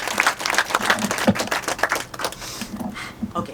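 Audience applause at a panel discussion, a brisk patter of many hands clapping close by that thins out toward the end.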